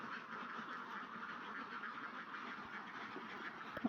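Ducks quacking on a duck farm, a dense, continuous chorus of many birds at a moderate distance, steady throughout with no talking.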